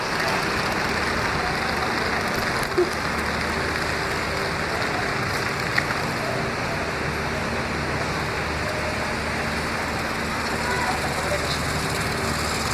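A tractor engine drones loudly and steadily, a dense broadband roar that stays constant without letup from start to finish, with occasional faint clicks over it.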